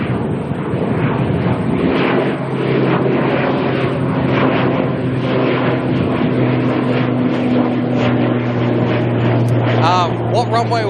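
An ATR turboprop airliner at Auckland airport gives a steady, droning engine hum and propeller whir heard from a distance, continuous throughout, while a person talks over it.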